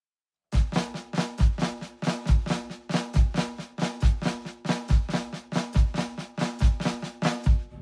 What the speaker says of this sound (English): Now all flams on the offbeat 16th sounds like this.